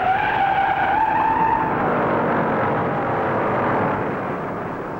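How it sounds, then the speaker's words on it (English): Several 1960 NASCAR Grand National race cars slide across the track with a long, loud tire squeal and skidding roar that fades slightly toward the end, engines droning underneath. "Four cars slide all over the track"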